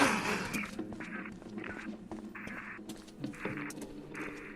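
Bird calls in a Silent Hill: Downpour game scene, a series of short repeated quacking or squawking bursts over a steady low ambient hum, moderately loud and without talk.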